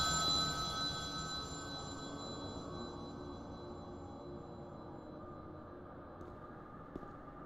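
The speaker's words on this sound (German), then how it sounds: "warum klingelt hier noch ein Telefon? Das ist gruselig, wenn hier ein Telefon klingelt." An old telephone rings inside an abandoned asylum in the horror video game The Town of Light, a faint, thin tone set against a low rumbling ambience that fades slightly over several seconds.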